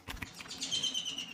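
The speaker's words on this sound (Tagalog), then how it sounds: "pasensya na sa ingay ng ibon" Birds chirp and tweet close by in a short burst of high, bright calls with brief rustly sounds under them, and no voices come through.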